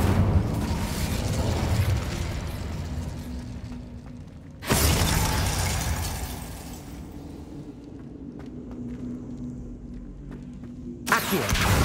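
A fire spell cast in Hogwarts Legacy bursts out as a loud crackling whoosh, then a second sudden blast follows mid-way and a sharp final burst at the end, over dense rumbling game effects.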